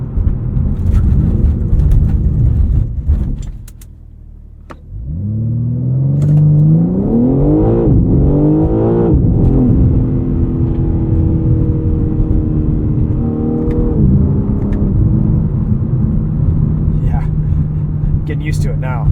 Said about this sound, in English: Let's do a quick braking test and then one more launch control